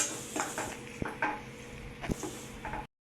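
Onion fries in a pan with turmeric while a spoon scrapes and clinks against the metal, sharp knocks over a soft sizzle, stopping abruptly near the end.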